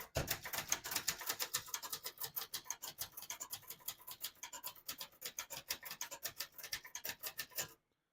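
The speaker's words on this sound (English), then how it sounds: "Very nice typing machine, excellent condition typewriter." A 1968 Brother Webster XL-500 portable typewriter in excellent condition types a rapid, fairly even run of sharp key strikes for about eight seconds, close and crisp, then stops abruptly; no one speaks.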